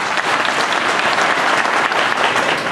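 Steady, dense applause from an audience at an Ashura evening gathering in Pazaryeri, loud and continuous throughout with no break in the clapping.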